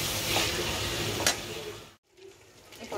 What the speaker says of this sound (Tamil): இது வந்து எண்ணெயில் நம்ம நல்லா வதக்கி எடுத்துக்கலாம்